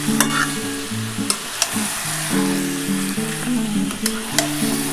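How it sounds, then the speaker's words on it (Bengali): Chicken for a dhaba-style chicken curry sautéing in a pan, a steady close sizzle and frying hiss with repeated stirring scrapes and spoon knocks throughout, no voices. "ভালো করে চিকেনটা আগে একটু কষাতে হবে।"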